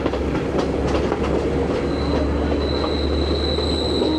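A passenger train rolls through Sri Lankan tea fields between Haputale and Bandarawela, heard from on board as a steady loud rumble with clicking wheels on the rails and a thin metallic squeal rising partway through.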